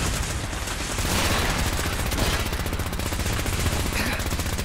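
Rapid gunfire in Fallout 4, dense and sustained bursts of shots filling the whole stretch at steady loudness, with a faint voice underneath.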